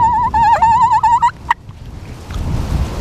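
A hunting call imitates a wild turkey's whine, a wavering, up-and-down squealing note lasting about a second and a half, loud and close, then cut off and followed by wind noise outdoors.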